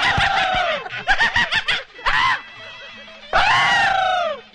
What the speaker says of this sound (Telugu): వీడెందుకండి జురాసిక్ పార్క్ సినిమా చూసిన లెవెల్ అరుస్తున్నాడు?